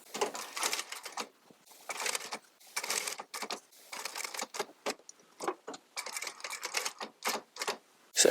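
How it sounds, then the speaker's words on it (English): A sewing machine stitches a chair upholstery panel with piping, giving repeated short bursts of rapid mechanical clatter broken by brief stops, close and moderately loud. "So now we can sew on this panel."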